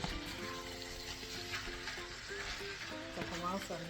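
Ground beef starts to simmer gently in a frying pan, giving a faint, steady sizzle beneath a person speaking close by.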